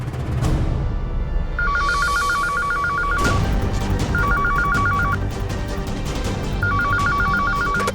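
A telephone rings indoors in three repeated electronic trilling bursts separated by short pauses, clear and moderately loud over faint background sound.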